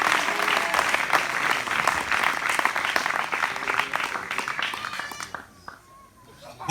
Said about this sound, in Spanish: Aplaude, hermano.